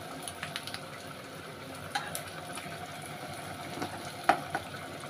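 Rohu fish roe fries gently in oil, giving a quiet, soft sizzle with scattered small pops and crackles, one sharper spatter near the end, and no voices.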